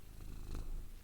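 A cat purrs in a horror embroidery game, a low steady rumbling close by, brief and alone.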